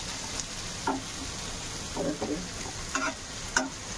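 Boiled potato pieces are fried and stirred in a pan, giving a soft constant sizzle broken by several short scrapes and knocks of the spatula.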